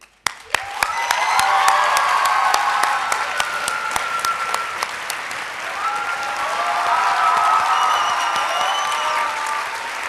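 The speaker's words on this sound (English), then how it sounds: "Jordan Komeju, you can applaud him, really." An audience at a model UN closing ceremony breaks into sustained applause, loud and steady throughout, with faint cheering tones rising above the clapping in two waves.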